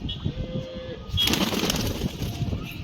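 A pigeon coos nearby in soft, throaty calls, then a louder rush of movement and ruffling breaks in partway through, with no talking.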